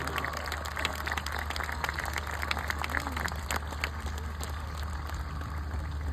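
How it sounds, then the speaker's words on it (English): An audience applauds steadily in a large hall, a dense even wash of clapping that holds at moderate loudness throughout. "Please join us in giving them a big round of applause."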